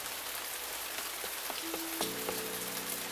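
Steady, dense rainfall patters on a surface in the video game Cupid Parasite, with a few faint tones sounding underneath.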